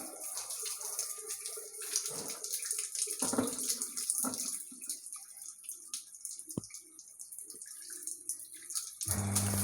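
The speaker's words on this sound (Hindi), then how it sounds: "तो मैं इस वॉल को अभी दोबारा से ऑन कर रहा हूँ, यानी कि कॉर्पोरेशन वाले पानी को ऑन कर रहा हूँ।" Municipal water supply gushes and splashes after a valve is opened, a continuous hissing flow with occasional knocks and bumps, steady and fairly close, with a low hum joining near the end.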